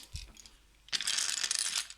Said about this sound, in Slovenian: Pa jih znova potegnem ven.